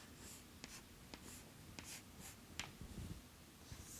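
Chalk or marker writing on a board during a physics lecture: a run of short, sharp taps and light scratching strokes at irregular intervals, close and fairly quiet, with no talking.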